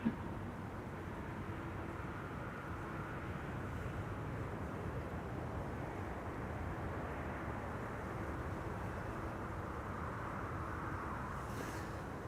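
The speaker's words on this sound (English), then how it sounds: "There she is, Saudia flight 933, Saudia cargo, arriving from Jeddah" Saudia Cargo flight 933 from Jeddah arriving at Amsterdam Schiphol, a steady distant jet rumble that holds evenly throughout with no break, under a broad low roar of wind and engine noise.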